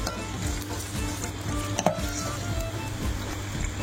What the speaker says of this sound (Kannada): ಎಣ್ಣೆಯಲ್ಲಿ ಫ್ರೈ ಆದಮೇಲೆ ಬೇರೆದೆಲ್ಲ ಹಾಕಬೇಕು